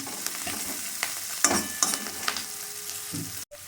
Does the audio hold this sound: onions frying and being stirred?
yes